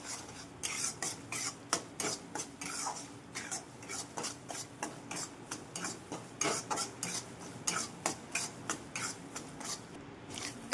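Semolina (rava) being roasted in ghee and stirred continuously in a pan, a steady rhythm of soft close scraping strokes repeating throughout.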